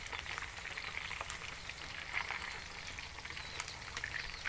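Chicken frying in oil in an old-style home kitchen makes a steady, close crackling sizzle with small pops throughout and no voices.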